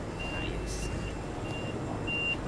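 A truck's reversing alarm beeps in a regular series of short high tones over a dull, steady background rumble.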